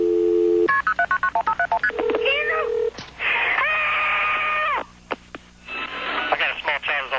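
Telephone keypad tones beep in a quick run of about a dozen short pulses during an emergency call being transferred to EMS, followed by rising tones, a long steady line tone and further electronic signals.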